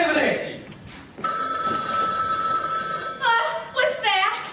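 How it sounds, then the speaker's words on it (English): A telephone bell rings loudly during a school stage play, a sustained metallic trill followed by two shorter bursts, with brief voices and stage noise before it starts. "It's the telephone."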